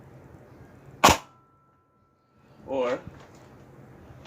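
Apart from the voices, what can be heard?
Nerf Rival Artemis XVII-3000 blaster slam firing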